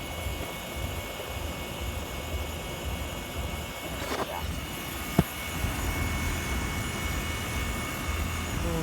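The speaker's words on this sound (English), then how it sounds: "Here's a compressor for that unit." A Trane XE 1000 heat pump compressor runs outdoors with a steady, droning mechanical hum and whir, a brief sweeping tone and a single sharp click partway through.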